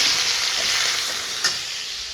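Tomatoes sizzle loudly and steadily in hot oil while being stirred, with one brief scrape of the spoon partway through and no talking.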